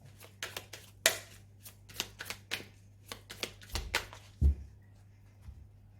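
Tarot cards handled at a table, being cut and drawn one by one: a series of crisp, short slaps and flicks at an uneven pace, close up and dry, with a low steady hum behind and no voices.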